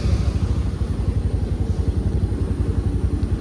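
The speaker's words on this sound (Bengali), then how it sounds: "ওই কোণে রাখতে হবে বাইকটা।" A motorcycle engine runs close by at low speed while the bike is being parked, giving a steady, rhythmic, low thudding idle with no speech over it.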